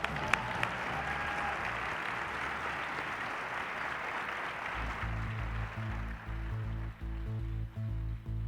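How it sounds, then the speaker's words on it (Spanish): An audience applauds a duo in a dense, steady burst of clapping that fills the first half, then gives way to a low, rhythmic musical accompaniment. "¡Un aplauso para ellos!"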